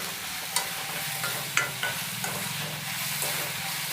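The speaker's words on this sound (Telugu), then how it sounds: "ఇలా ఉల్లిపాయ పచ్చిమిర్చి చక్కగా మగ్గబెట్టుకోవాలి" Onion and green chillies with salt sautéing in a pan, a soft steady sizzle close by, punctuated by a few distinct clinks and scrapes of a stirring spoon, no speech.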